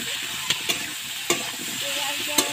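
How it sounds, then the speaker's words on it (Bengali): Ginger paste frying in a pan with raw banana and potato for a fish curry, giving a steady sizzle with a few sharp stirring clinks and scrapes of the spatula, close and moderately loud with no talking. "এবার আদাটা দিয়েও আমি বেশ কিছু সময় ভেজে নেব।"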